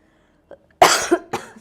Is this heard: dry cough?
yes